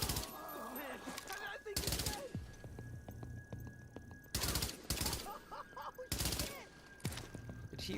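Bursts of MG5 light machine gun fire in The Division video game, loud and close in several sharp volleys across the stretch, with other shots and a voice talking in between.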